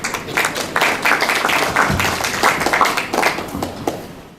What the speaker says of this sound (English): Please give him a big round of applause to be on the stage.